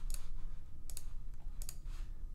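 Three crisp computer mouse clicks spaced about three-quarters of a second apart, close and fairly quiet, over a low steady hum.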